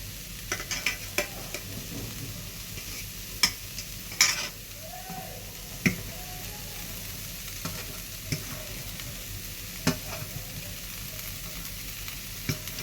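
Paneer for a veg roll sizzles steadily in a pan, broken by a scattered series of spatula scrapes and taps as the pieces are stirred.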